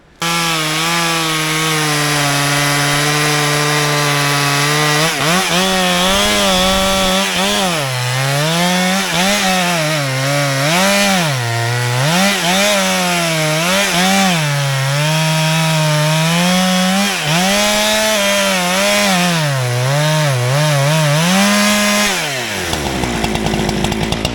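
A STIHL MS 500i fuel-injected chainsaw runs loud and close while cutting wood, its engine note rising and dipping in repeated surges under load before cutting off near the end.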